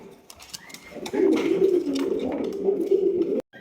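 Pigeons coo in a low, rolling chorus that swells after a quiet start and carries on steadily, nearby and fairly loud, before cutting off abruptly.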